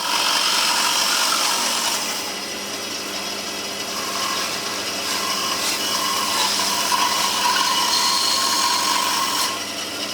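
A bandsaw cuts off the corner of a wooden wine rack piece, a loud, continuous whirring rasp that holds steady for the whole stretch, close by and alone.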